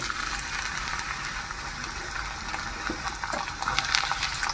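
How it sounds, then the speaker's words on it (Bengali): Carrots fry in hot mustard oil in a kadai with a continuous, even sizzle and bubbling hiss, close and fairly loud, with no voices. "এবার আমি সবজিগুলো সব ভেজে নেব তো প্রথমে আমি তেলের ওপরে দিয়ে দিচ্ছি গাজর"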